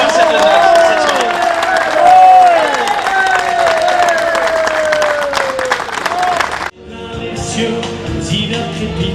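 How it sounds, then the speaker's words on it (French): Crowd at an evening boules tournament gathering claps and cheers loudly for Sébastien, with rising shouts and whoops over dense clapping before the sound cuts off abruptly near the end. "on va applaudir Sébastien"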